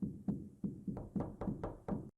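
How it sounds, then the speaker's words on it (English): Seven loud, close door knocks from a horror animation sound in an uneven rhythm over about two seconds, each a sharp hollow thud on wood with no talking. "that knock was in my ear"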